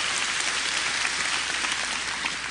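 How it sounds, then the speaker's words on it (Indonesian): A crowd at an Indonesian religious lecture claps steadily, a dense wash of applause sustained evenly throughout without any voice over it. "Tepuk tangan untuk Nusantara."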